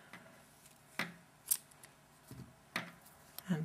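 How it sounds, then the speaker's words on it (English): Scissors snip through crochet yarn in several quick, crisp metallic cuts and clicks, spaced irregularly and heard up close against a quiet room. "cut my yarn"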